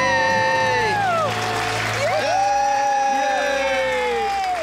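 A family's excited cheering, whoops and clapping erupts after a debt-free scream, with a young child joining in the kicking and clapping, the shouting and high voices loud and close throughout.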